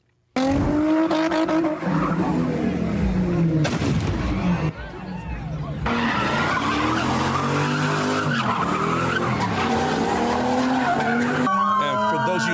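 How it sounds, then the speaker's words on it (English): Cars spin donuts on a street in Oakland, California, with loud, continuous screeching tire squeals and revving engines, punctuated by sharp bangs and distant crowd noise. "These cars are going spinning dangerously out of control."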